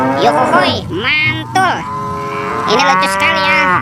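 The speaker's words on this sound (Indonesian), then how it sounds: "Wih, ada hewan sapi." Cow mooing in repeated drawn-out calls, loud and close, with a child-like voice talking and exclaiming over and between the moos.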